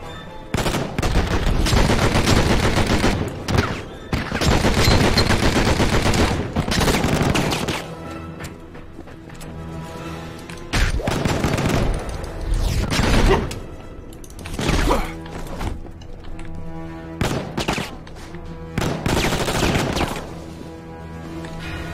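Gunfire and bullets in the 2003 Shiny Entertainment video game Enter the Matrix, with loud, dense bursts of shots and impacts repeating in volleys, broken by brief lulls.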